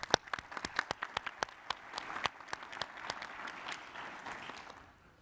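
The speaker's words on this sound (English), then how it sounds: "so let's give them a quick round of applause." A quick round of applause for event organizers at an environmental mitigation gathering: a few sharp, distinct claps first, then thickening into a modest crowd applause that fades away.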